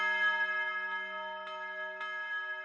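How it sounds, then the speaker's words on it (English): A single church bell tone in a horror rap beat rings on and slowly decays, its steady metallic hum filling the clip with a couple of faint taps beneath. "Lastly, down here, I've just added a church bell."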